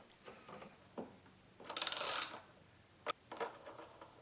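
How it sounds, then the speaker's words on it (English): Skateboard wheel nut tightened over a washer on a DIY longboard, a rapid clicking ratchet burst in the middle among scattered small metallic taps and knocks, close and without speech. "we're going to tighten this, but not too tight that it stops the wheel"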